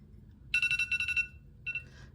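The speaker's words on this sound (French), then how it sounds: "Vous avez entendu mon réveil?" An electronic alarm clock ringing in quick, bright repeated beeps, a burst of about eight pulses followed by a short pause and a couple more, heard alone in a quiet room.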